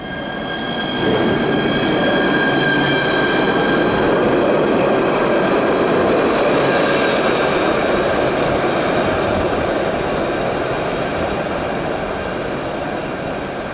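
A tram rolls past steadily in France with a continuous rumble and rattling wheels, faint squealing tones riding over it, close and loud throughout.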